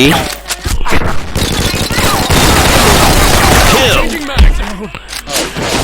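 Dense, loud bursts of gunfire and explosions from the video game Line of Sight, continuous and chaotic, with excited voices shouting in Thai over the top.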